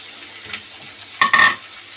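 Minced meat (qeema) goes into a pan of browned onions and starts frying, giving a short burst of sizzle with light stirring scrapes, close and moderately loud, with no talking.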